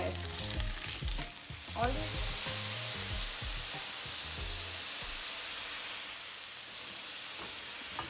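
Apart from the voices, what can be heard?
potatoes frying in oil on medium flame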